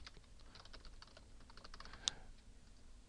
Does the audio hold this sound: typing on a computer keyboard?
yes